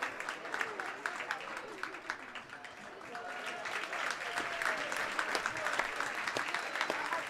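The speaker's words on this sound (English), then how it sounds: "Round of applause from the gymnasium for this tough wrestler from Lawrenceville." A gymnasium crowd applauds after a high school wrestling match, sustained dense clapping with scattered cheers, and an announcer talks over it.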